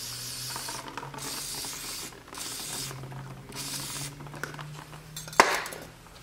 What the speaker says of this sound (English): So we'll just spray this off with some carburetor spray.